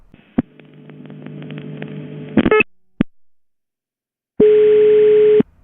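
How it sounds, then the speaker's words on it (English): Call progress tones on a Ukrainian or Russian crossbar telephone switch: a steady humming tone broken by sharp relay clicks, a pause of silence, then a loud continuous tone that cuts off abruptly. "The following call is a non-tributary call, rather a call to the main switch that does not require dial outpulsing."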